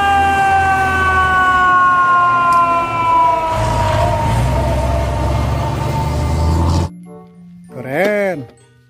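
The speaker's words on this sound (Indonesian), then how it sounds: "Wadidaw, ada mobil pemadam kebakaran." A toy fire truck's electronic siren wails in falling, sweeping tones for several seconds, loud and close, then cuts off; a voice speaks briefly afterward.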